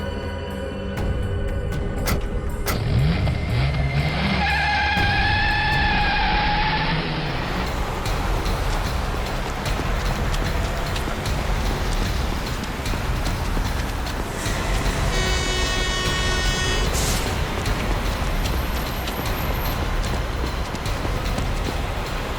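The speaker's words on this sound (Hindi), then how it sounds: "अबे गाड़ी भगा, तेज चला।" A car driven fast, a loud continuous roar of engine and road noise, with horn-like tones sounding near the start and again midway.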